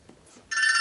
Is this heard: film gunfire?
no